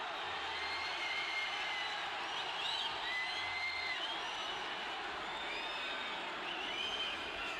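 A large boxing arena crowd roars steadily throughout, with scattered whistles and shouts rising over a continuous dense wash of cheering.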